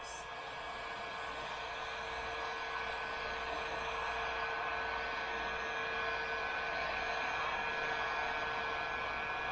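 A heat gun blows steadily on a plastic pumpkin bucket to soften it, giving a continuous, even, airy whir with a faint constant whine that holds unchanged throughout.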